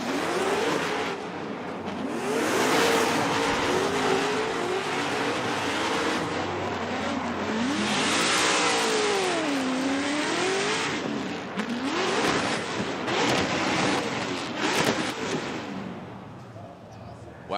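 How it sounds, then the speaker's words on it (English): Formula Drift race car at a knockout qualifying event revving hard, the engine pitch sweeping up and down in loud repeated surges with tire squeal, while commentators talk over it. "that engine sounds absolutely fired up"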